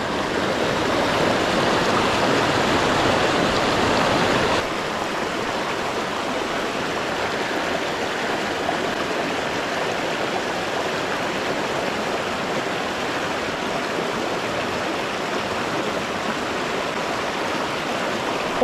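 Mountain headwater river rushing near a waterfall in Japan, a continuous broadband roar of flowing water, loud and close, dropping slightly in level partway through then steady.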